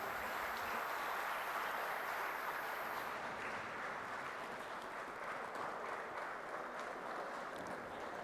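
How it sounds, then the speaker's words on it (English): Audience applause at a valedictory function of an endowment lecture series, steady, even clapping from a crowd heard at moderate distance and low level, continuing unbroken for several seconds. "A big round of applause once again,"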